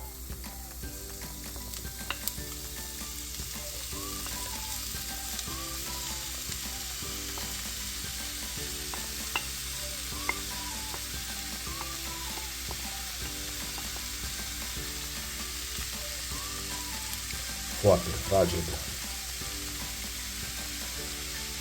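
Oyster mushrooms frying in olive oil with softened onion, a faint steady sizzle with light clicking and scraping of stirring under soft music, one short spoken phrase and a louder clatter near the end.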